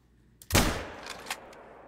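A single sharp rifle gunshot in theHunter: Call of the Wild, striking an animal, loud and close with a short echoing tail and a faint secondary report after.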